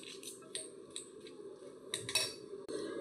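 Utensils clink and scrape against a bowl while a salad of pomegranate seeds and soaked chia seeds is tossed, with light scattered taps and rattles at close range and no talking.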